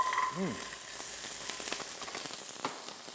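Fresh minced garlic and diced carrots sizzle in a little oil in a pan, a constant crackling hiss punctuated by brief pops, with a short tonal clink near the start.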